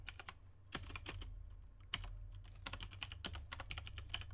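Rapid, uneven clicking of a computer keyboard being typed on, sharp keystrokes in bursts close by with a low steady hum underneath, no voices.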